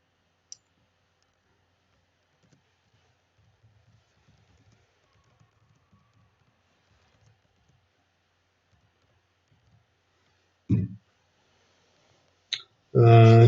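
A computer mouse is clicked while working in an MS Excel chart, giving a few sharp, isolated clicks in near silence, the loudest near the end, just before a voice begins speaking.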